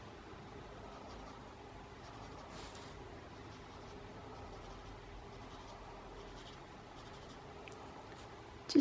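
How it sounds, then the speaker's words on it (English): Pencil lightly shading on paper in a drawing, giving a soft, steady scratchy rasp that continues close and quiet throughout, with a small knock at the very end. "Just a smudge of pencil."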